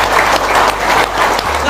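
Audience applause at an Indonesian religious talk, a steady dense wash of clapping from a crowd at moderate loudness, with a low hum underneath and no clear break.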